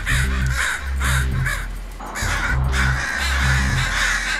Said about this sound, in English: Crow fight.